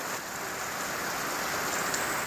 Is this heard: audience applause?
no